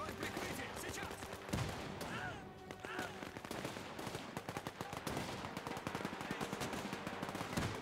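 A dense World War II battle in the strategy game Men of War 2, fought over a German town, with rapid machine-gun bursts and rifle shots rattling continuously, loud and close, and a voice faintly underneath.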